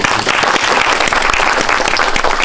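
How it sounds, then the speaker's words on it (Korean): An audience at a Korean film screening talk event breaks into dense, sustained applause, many hands clapping together loudly and evenly for a couple of seconds. "축하의 박수 한번 부탁드리겠습니다."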